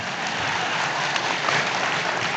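Applause from an audience at a political rally for an Aaditya Thackeray speech, a continuous even wash of many hands clapping at moderate loudness.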